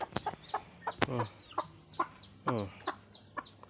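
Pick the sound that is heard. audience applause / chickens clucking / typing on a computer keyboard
chickens clucking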